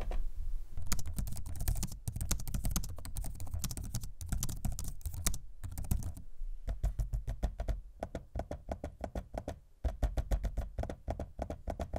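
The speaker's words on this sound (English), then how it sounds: "I like the spongy but responsive key press on this keyboard" Typing on an HP Victus laptop keyboard with a spongy, quiet key feel; close, rapid clusters of soft key taps with brief pauses between bursts, no talking.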